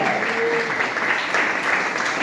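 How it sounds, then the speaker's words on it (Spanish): A church congregation at a Holy Week service gives strong, steady applause offered to the Lord, a dense wash of many hands clapping throughout the moment. "Den una fuerte ofrenda de palmas al Señor"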